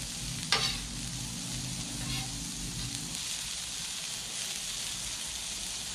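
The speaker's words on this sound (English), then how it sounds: "it's kind of keep stirring these onions around." Onions being stirred on a Blackstone griddle while smash burgers cook, a steady close sizzle with a sharp scrape of the spatula at the start and a few softer scrapes after, no talking.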